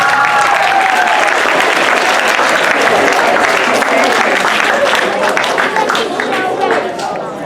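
Loud, dense applause from the audience at a comedy hypnosis show, a continuous roar of many hands clapping close by that holds steady and tapers slightly at the very end.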